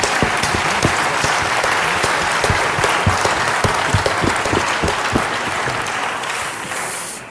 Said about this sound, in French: moi je propose, si vous êtes d'accord, qu'on applaudisse David